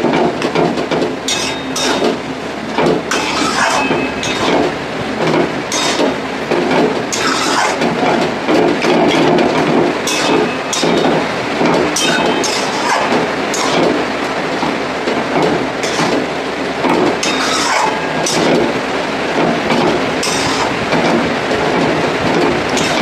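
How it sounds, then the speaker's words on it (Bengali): Dense, steady rain hisses and patters continuously outdoors for the whole stretch, loud and unbroken, with no talking. "বৃষ্টির আওয়াজ আসতে একটু মানিয়ে নিও"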